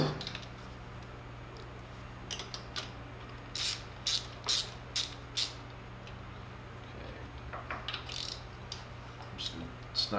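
Ratchet tightening a steel drain plug into the aluminum case of a Genuine G400C motorcycle during an oil change: short bursts of close, crisp pawl clicks in a few spaced runs over a low steady hum, no talk.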